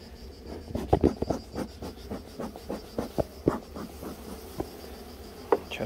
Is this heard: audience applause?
no